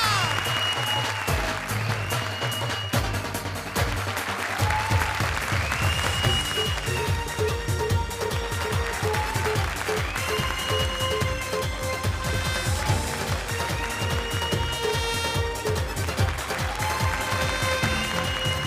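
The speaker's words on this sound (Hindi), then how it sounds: "लेडीज एंड जेंटलमैन, जोरदार तालियां।" Studio audience applause on a comedy show rolls on steadily for the whole stretch, blended with background music and a little talk.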